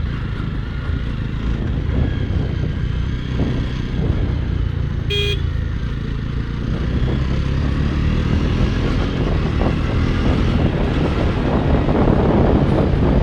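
A 2021 Jawa Classic motorcycle with updated ECU mapping rides along on an evening outing, its engine a continuous loud drone buried in heavy wind buffeting, with a brief high tone partway through.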